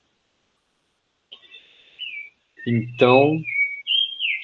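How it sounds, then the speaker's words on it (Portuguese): A rufous-bellied thrush (sabiá) sings nearby in clear, whistled phrases with rising and falling notes, alongside a brief spoken word over an otherwise quiet background. "Nossa, tem um sabiá que tá barulhentinho aqui."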